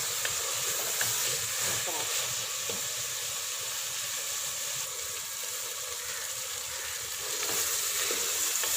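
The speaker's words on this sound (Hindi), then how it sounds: "सारी सब्जियां ऐड करने के बाद हम इसको 10 मिनट तक पका लेंगे।" Mixed cauliflower, potato, pea and carrot sabzi frying in a pan, a steady bright sizzle and hiss throughout with faint stirring scrapes, no speech.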